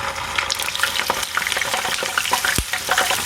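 Food frying in hot oil for a side dish, a steady close sizzle with stirring clatter and scraping throughout, no talking.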